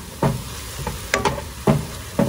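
Minced garlic cooking in a pan, a loud close sizzle broken by several sharp scraping stirs at an uneven pace.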